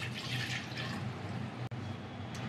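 Water poured into a glass while preparing a jeeni powder health drink, a steady close trickle and splash running for a couple of seconds with one brief break.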